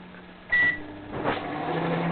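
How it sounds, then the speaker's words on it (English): Microwave oven running with cocoa flakes, salt, pepper, mixed spices, lettuce and a chip inside, a steady low hum with a brief bright tone early and rising crackly noise toward the end. "This is what happens when we put cocoa flakes, salt, pepper, mixed spices, lettuce, a chip into a microwave."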